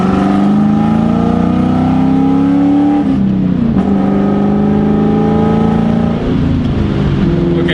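A loud straight-piped 4.6-litre V8 Mustang engine revs through rising, falling pitch sweeps, shifting and climbing again in a smooth, powerful roar heard from inside.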